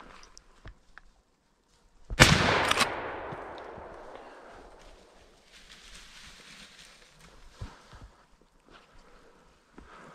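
Blaser R8 rifle shot fired during a driven boar and deer hunt in January, a single loud report followed by a long rolling echo that fades over a couple of seconds, then quiet outdoor rustling.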